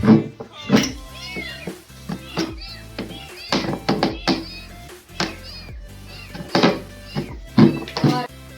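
Trapped kittens at home meow repeatedly in short, high, urgent cries close by, mixed with knocks and taps from breaking something open to reach them.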